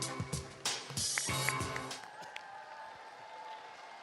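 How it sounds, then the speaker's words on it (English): An audience at a university public lecture on social business gives a burst of clapping that is loud at first, then fades out over a few seconds. "So now let's give warm applause to Mr. Imran Haris."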